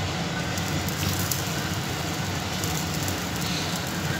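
Chopped onion, green chili and capsicum sizzling in a hot pan on top of spread batter, a steady close crackling hiss that carries evenly throughout with no talking.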